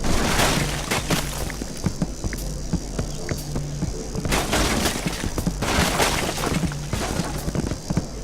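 Objects being smashed apart in the VR game Furball Demolition, a dense, continuous clatter of breaking and crashing debris with repeated sharp impacts and a steady low rumble throughout, loud and busy with no pause.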